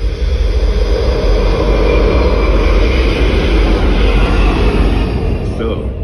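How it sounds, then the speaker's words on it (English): A deep roaring jet engine rumble fills an IMAX cinema during its pre-show sound demonstration, loud and sustained with heavy low-end thunder and a broad whooshing layer, fading slightly at the end. "to the thunder of a jet engine."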